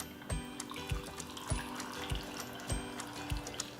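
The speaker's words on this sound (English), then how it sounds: "And you pour your hot water over it." Hot water runs and splashes into a cup through a tea infuser, with a series of soft, regular thuds about every half second beneath the steady trickle.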